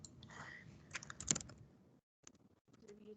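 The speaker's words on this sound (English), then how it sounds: "I'm going to type this in here." Someone types on a computer keyboard in a quiet room, tapping out a quick, uneven cluster of soft key clicks, then a brief pause and a few more scattered taps.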